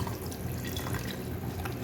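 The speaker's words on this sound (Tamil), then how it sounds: "தண்ணி ஊற்றி மிக்ஸ் பண்ணிங்க" Water pours from a vessel onto tamarind in a kitchen while preparing fish curry, a steady splashing trickle close by and without speech.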